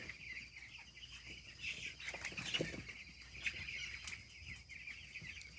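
Chickens on a poultry farm at night, with soft scattered clucks and rustling wings near the listener over a steady faint background hum.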